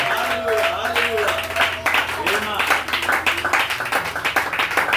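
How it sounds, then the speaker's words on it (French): A church congregation claps and applauds in dense, rhythmic bursts, while voices call out and speak over the clapping throughout. "Donnez les mains d'acclamation au Seigneur."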